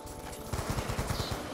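Rapid automatic gunfire in Call of Duty Black Ops 2, a sustained burst of evenly spaced loud shots that intensifies midway and keeps a steady rattling rhythm with a low, booming body.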